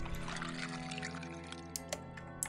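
Water drawn and poured in a horror adventure video game, a short liquid pouring sound over a steady low game music drone, with a few brief sharp effects near the end.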